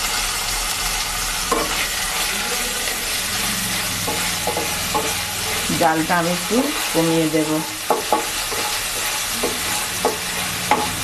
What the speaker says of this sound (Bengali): আদা রসুন ভাজা হয়ে গেলে